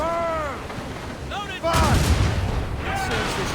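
Cannon fire from a sailing warship in the video game Assassin's Creed Rogue, heavy booming blasts rolling out under shouted voices and game music, the loudest volley arriving partway through.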